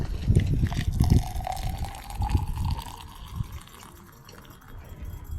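Freshly boiled water poured for tea, a close, gushing splash that fills and gradually softens into a quieter trickle as the vessel fills, with a rising tone near the start.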